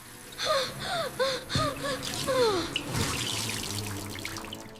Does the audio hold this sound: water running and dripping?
yes